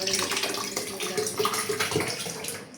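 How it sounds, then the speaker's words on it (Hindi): Thick yogurt pours and splashes into a jug while making kadhi pakora, a continuous wet, gurgling flow lasting a few seconds, fairly close and alone. "मैं एक जाग लेती हूँ, इसके अंदर डालती हूँ दही।"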